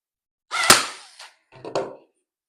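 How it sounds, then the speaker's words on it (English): Two sharp, snappy staple-gun shots fire close by into seat cushion upholstery fabric, each a quick punchy bang with a brief rattling tail, separated by about a second of silence. "I'm going to put staples, staples, staples"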